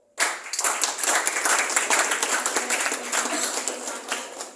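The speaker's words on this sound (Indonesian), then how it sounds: "Sekali lagi tepuk tangan buat Bang Melki" Audience applause at the end of a speech launching a democracy forum: dense, steady clapping from a crowd that starts abruptly and carries on evenly for several seconds, close and fairly loud.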